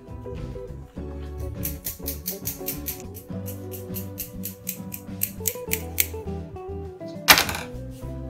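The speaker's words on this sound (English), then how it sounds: "If you've ever seen someone dice tomatoes with a knife, wait till you see it with scissors." Kitchen scissors snip rapidly through tomatoes, dicing them in quick rhythmic cuts, close and fairly loud over steady background music.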